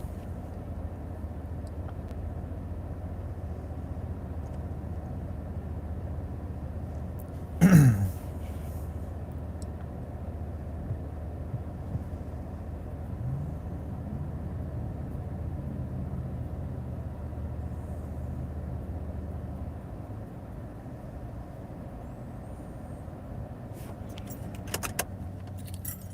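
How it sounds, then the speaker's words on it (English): A parked car's engine idles with a low, steady hum for the whole stretch, joined by a brief jangle of keys early on and a faint clatter near the end. "Turn the car off for a little bit."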